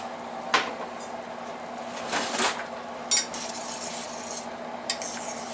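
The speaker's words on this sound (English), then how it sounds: "we'll put the rice in there" Rice goes into a pot on a stovetop with a few clanks and scrapes of cookware over a steady low kitchen hum. The sounds are close and fairly quiet, with short sharp knocks spaced a second or two apart.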